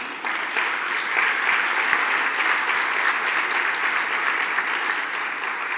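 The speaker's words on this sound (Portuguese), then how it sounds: "Dê um aplauso a Jesus" A church congregation applauds together, a dense, loud, steady wash of clapping hands that fills the whole stretch without pause and fades slightly at the very end.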